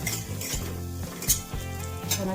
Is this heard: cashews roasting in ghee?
yes